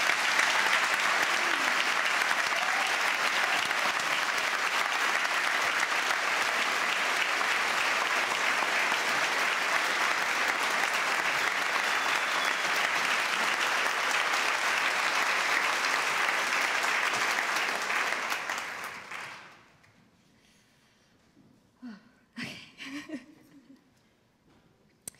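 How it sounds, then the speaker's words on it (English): A school commencement audience gives sustained, loud applause that fills the hall for nearly twenty seconds, then fades quickly to near silence with a few scattered sounds. "please join me in applauding a truly special group of friends"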